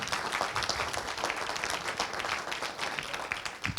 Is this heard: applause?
yes